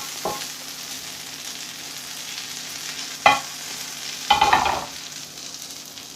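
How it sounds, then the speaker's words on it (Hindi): Butter melting on a hot tawa griddle, a soft steady sizzle with a few louder scrapes and stirring bursts, no talking. "सबसे पहले मैं बटर डाल लूँगा। बटर को गर्म होने दूंगा मैं।"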